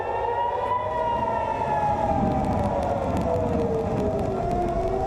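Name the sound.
air raid siren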